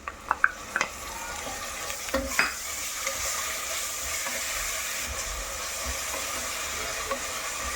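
A paste of cumin, coriander and garlic fries in a pan, hissing steadily up close, with a few sharp clicks of a spoon against the pan early on and no voices.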